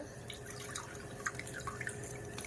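Diluted liquid for a saffron niacinamide face cream drips steadily through a filter, with soft irregular drops standing out against a low background hum and no talking.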